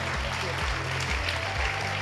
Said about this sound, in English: please put your hands together to thank our system thinkers